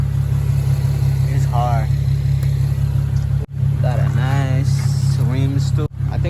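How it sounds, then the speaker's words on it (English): A 2018 Nissan 370Z Nismo fitted with a Greddy Evolution GT exhaust idles with a loud, steady low rumble, while someone talks over it throughout. "The car is loud. It's better than the way it was."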